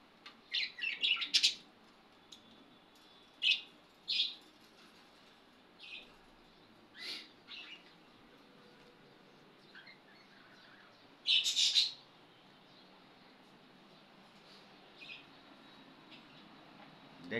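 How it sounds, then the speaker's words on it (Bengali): Pet birds, pigeons among them, calling on a home balcony: scattered bright chirps and short tweeting bursts, some in quick clusters, over a quiet background with long gaps between calls. "দেখছেন পাখিগুলো অবশ্যই।"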